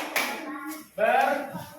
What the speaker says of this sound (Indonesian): tepuk tangan untuk kelompok menghargai